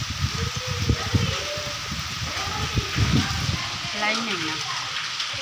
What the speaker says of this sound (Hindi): सब वर्षा ही वर्षा